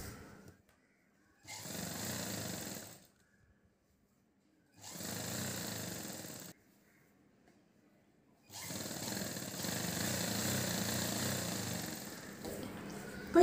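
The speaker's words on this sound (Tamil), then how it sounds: "இப்போ இன்னொரு தையல் போட்டுக்கலாம்." A sewing machine stitching a chudidar top runs in three bursts, short, short, then longer, each a steady mechanical whirr separated by silence.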